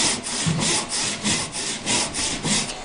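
A hand saw rips along the grain of wood clamped in a vise on a Moravian workbench, close and loud, with an even back-and-forth stroke repeating roughly twice a second.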